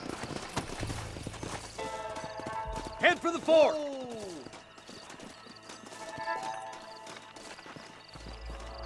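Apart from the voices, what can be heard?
horses in video game Red Dead Redemption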